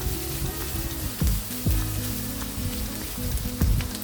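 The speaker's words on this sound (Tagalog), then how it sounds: "Antayin natin mag-golden brown ang ating bawang." Sliced garlic sizzles steadily in hot oil in a pan, browning as the base for pancit canton guisado, with a continuous close crackle and a few soft stirring scrapes.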